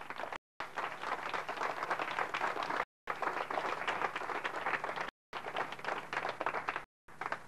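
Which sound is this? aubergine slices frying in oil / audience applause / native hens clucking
audience applause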